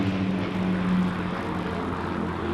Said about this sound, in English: this is the fly past that you can see. Lancaster bomber magnificently there in the centre.